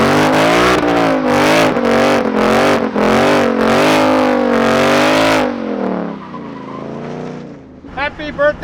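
A 2021 Ford Mustang Mach 1 held on line lock for a burnout, its engine revving loudly in repeated surges with screeching tires, then dropping to a lower idle before short bursts of voices cheering.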